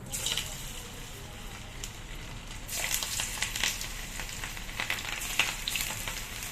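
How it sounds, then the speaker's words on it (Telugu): Boneless chicken pakodi frying in hot oil, a steady close crackle and sizzle that swells louder partway through with sharp popping spatters, no talking. "మనం ఆయిల్ మరిగింది, పకోడీ వేస్తున్నాం అండి."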